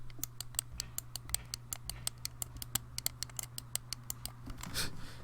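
Sega Saturn Model 1 controller triggers pressed again and again, giving sharp mouse-like clicks in a quick, uneven rhythm, close and crisp over a faint steady hum.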